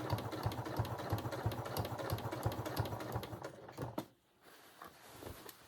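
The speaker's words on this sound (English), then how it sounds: "I'm just stitching along the very edge with that bias binding" A sewing machine stitches bias binding along the edge of a Grace jacket, giving a fast, even mechanical whirring with rapid rhythmic ticks, fairly quiet and close, that stops abruptly near the end before briefly starting again.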